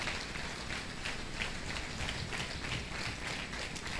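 Congregation clapping loudly at a church service, a dense steady wash of applause sustained throughout with no speech over it.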